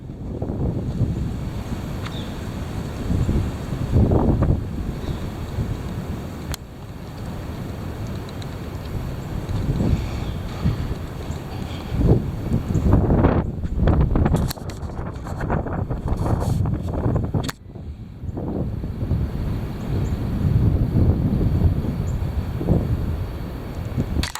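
Heavy wind roars and buffets the microphone continuously outdoors, loud and close, with gusts swelling and easing over the whole stretch and no voices.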